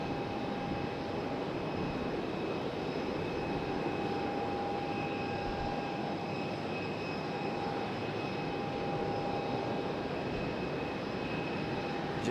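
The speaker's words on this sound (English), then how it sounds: "JetBlue, that A320 starting up down there" A JetBlue Airbus A320 starts its jet engines somewhere below at Raleigh-Durham airport, a steady, distant broadband roar with a thin whine running through it, unchanging throughout.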